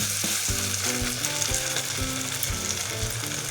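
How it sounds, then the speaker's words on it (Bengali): Cabbage kofta rolls frying in oil in a vegetarian Bengali kitchen, constant close sizzling with gentle bubbling and faint stirring, no voices. "একই রকম করে এটাও ভেজে নিচ্ছি।"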